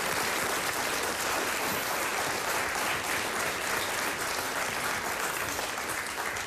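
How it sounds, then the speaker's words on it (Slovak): Studio audience applause on a Slovak quiz show fills the whole stretch, a dense, even wash of many hands clapping, loud and sustained without pause. "Potlesk"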